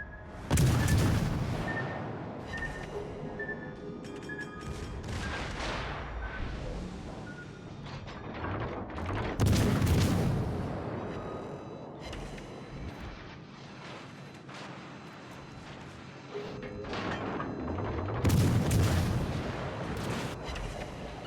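Naval artillery shells strike in the World of Warships Legends game, with heavy booming impacts and gunfire bursts recurring every several seconds over a continuous rumbling battle din.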